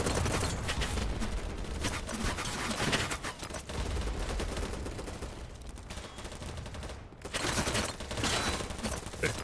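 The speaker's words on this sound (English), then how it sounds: "There's like people shooting me." Dense, continuous gunfire from the shooter game Battlebit, overlapping bursts and automatic fire filling the whole stretch with a brief lull near the end before shooting resumes, loud and close.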